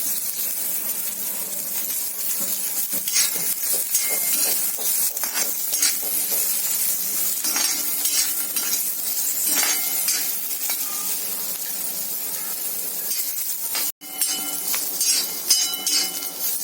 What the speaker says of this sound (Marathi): कांदा नरम होईपर्यंत त्याला ढवळत राहायचंय।